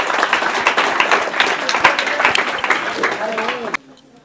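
Audience applause at a Marathi school quiz contest after a correct answer, dense clapping filling the room for several seconds, then cutting off abruptly near the end, with a voice briefly audible underneath.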